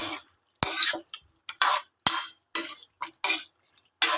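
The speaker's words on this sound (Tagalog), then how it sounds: "So, ayan, halo-haloin lang natin." A spoon stirs pork humba in a pot with pepper and bay leaves, giving about eight separate scraping strokes with brief clinks against the pot and quiet gaps in between.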